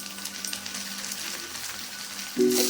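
Ginger and chili paste, ground on a grinding stone, tipped into onions already fried red in a pan for a rohu fish and potato curry, a steady close sizzle that swells louder near the end as the paste hits the hot oil.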